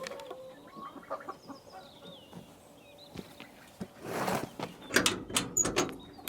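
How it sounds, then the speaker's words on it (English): Chickens and a cockerel in their coop at night, making soft scattered clucks and murmurs that swell into louder, busier squawks and flapping toward the end, heard close with no talk. "All right, let's see what those chickens are doing."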